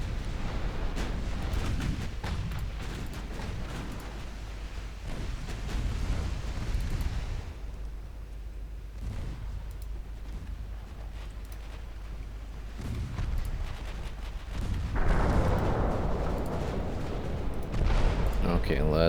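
Naval gunfire rumbles through a ship battle in Ultimate Admiral Dreadnoughts, with repeated heavy booms and a dense, continuous low roar that swells near the end, while a voice talks over part of it.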